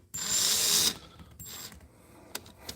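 A power drill spins a small model part during sanding, a loud close whine for under a second, then a shorter burst and a few clicks as it stops.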